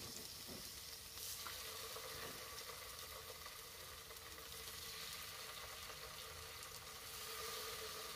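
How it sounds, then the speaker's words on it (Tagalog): Tofu frying in a pan, a continuous crackling sizzle with occasional sharper pops, fairly quiet and steady throughout with no talk. "Piniprito ng tokwa."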